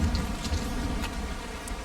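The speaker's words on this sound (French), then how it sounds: "Et en plus, il pleut, ça hydrate automatiquement." Steady rain falls in the survival game Ark on a lava island, a dense even patter with low rumbling underneath, continuous and moderately faint throughout.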